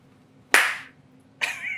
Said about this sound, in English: Do you want to clap so you can sync it?